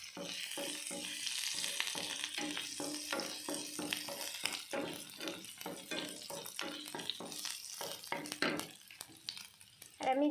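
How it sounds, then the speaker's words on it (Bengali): Carrot and chopped ginger fry in ghee with a spoon of white oil for a paneer vegetable soup, making a continuous close sizzle with rapid, rhythmic stirring scrapes and a faint voice underneath. "এইবার আমি এই ঘিতে এক চামচ সাদা তেল দিয়েছি, এর ভিতরে আমি গাজরটা দিয়ে দেবো, আদা কুচিটা"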